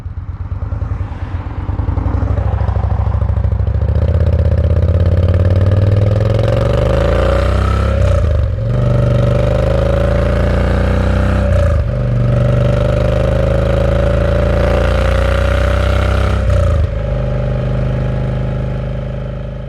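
Loud, close engine drone from a Yamaha V-Star 950 cruiser motorcycle on its factory exhaust at highway speed, holding a steady, throaty tone for about twenty seconds with a few brief dips as the revs shift.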